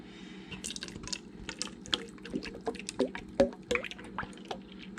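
Buttermilk pours over chicken thighs with a soft, close liquid glug, scattered drips and wet squishes, quiet and steady with no voices.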